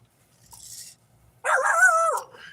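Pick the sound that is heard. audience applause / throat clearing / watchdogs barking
watchdogs barking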